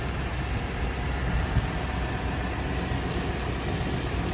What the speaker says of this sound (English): Motor sounds fantastic.